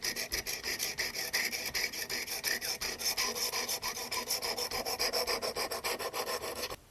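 Knife blade stroked repeatedly across the abrasive of a Work Sharp Precision Adjust sharpener, a close, even rasping in quick regular passes, steady throughout with no talk.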